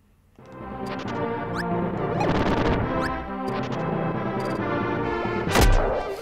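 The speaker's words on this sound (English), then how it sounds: "Now I have the power of bombs." Bomb explosions from the video game Kirby Super Star: a quick run of loud blasts and thuds over busy, bright game music, with one heavier burst near the end.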